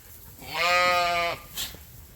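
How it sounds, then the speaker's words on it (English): A single close sheep bleat, a wavering nasal call lasting under a second, followed by a short soft breathy sound in a quiet setting. "This is when you'll see sheep panting."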